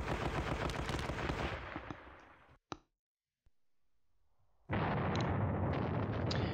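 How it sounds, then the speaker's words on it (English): Rapid bursts of infantry and machine-gun fire from the war game John Tiller's Panzer Battles Normandy, loud and dense at first, then a lone sharp shot and a hush before heavy gunfire resumes. "He's got some infantry guns there firing there."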